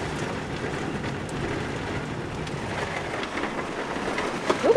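Steady rain falls outdoors in East Lothian, a continuous loud hiss and patter that runs unbroken throughout, with no voices heard.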